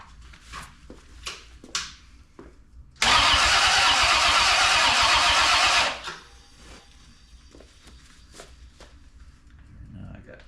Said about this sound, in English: Hook up the jump box. I need to kick over or spit or sputter or something.